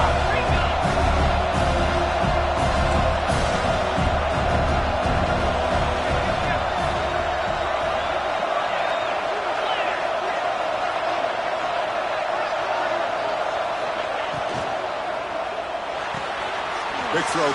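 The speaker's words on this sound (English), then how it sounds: "This crowd is trying to inspire this defense to make a big red zone stop." A football stadium crowd roars steadily for the defense during a red zone stand in a Longhorns game, a loud continuous wall of cheering that thins slightly partway through, with an announcer talking over it.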